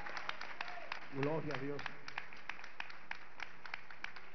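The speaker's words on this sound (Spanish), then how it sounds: "Un aplauso al Señor" Church congregation clapping, a sparse, fairly regular patter of hand claps heard faintly at a distance while someone speaks briefly over it.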